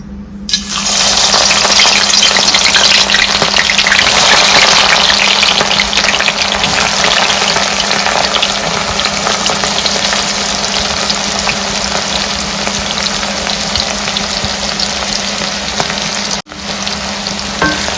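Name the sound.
onions frying in hot oil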